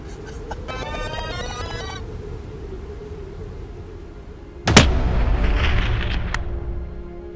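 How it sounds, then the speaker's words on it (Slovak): A single sharp, loud rifle shot cracks out during an Alpine ibex hunt in Slovenia, followed by a rolling rumble over steady outdoor background noise. "Super strelba, Jardo"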